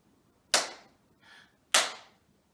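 Two crisp, close hand claps about a second apart cut through a quiet room during children's yoga, with a soft brief rustle between them.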